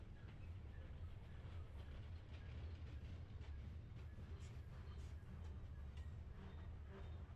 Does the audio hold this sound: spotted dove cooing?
no